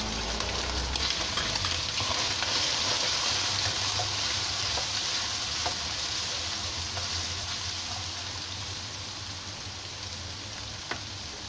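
Onion and bird's eye chili sizzle and fry steadily in a hot pan for fried rice, a dense continuous crackle with faint pops throughout and no talking.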